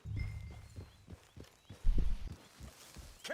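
Horse hooves in the Red Dead Redemption 2 video game, a steady clip-clop of walking steps on the ground with heavy low thuds, close and fairly loud, the rhythm shifting slightly partway through.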